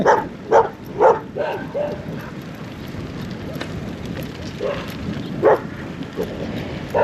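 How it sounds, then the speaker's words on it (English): Several dogs, including a Rottweiler and a heeler, bark in short bursts, a cluster of quick barks early then a couple more later, fairly close against steady outdoor background noise. "And these dogs are so happy to see us."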